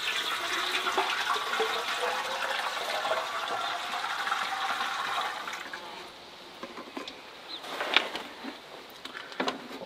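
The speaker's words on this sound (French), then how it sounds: "on va tout simplement commencer par mettre un peu d'eau chaude pour voir s'il n'y a pas de fuite en bas du réservoir" Hot water poured into a freshly tinned metal tank to check for leaks, a broad rushing, splashing flow that fades after about six seconds into faint drips and small knocks.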